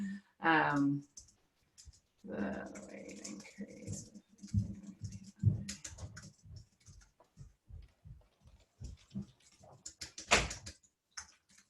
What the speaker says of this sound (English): I don't want everyone to watch me type these questions